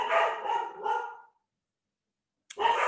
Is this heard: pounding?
no